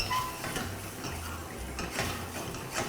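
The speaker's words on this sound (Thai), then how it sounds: "ใช้การเขย่าภาชนะเพื่อให้เนยเนี่ยสัมผัสกับตัวสต๊อก" Pan shaken to emulsify butter into a lemon stock sauce for chicken thighs, giving soft continuous clinks and swishing metal rattles close by, steady throughout with no talking.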